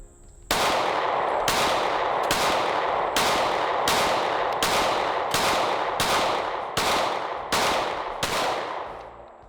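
A Smith & Wesson M&P 2.0 pistol fires about ten evenly spaced shots at a shooting range, each a sharp loud report with a reverberant tail that blends into the next, no talking.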